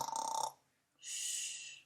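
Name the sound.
voice imitating snoring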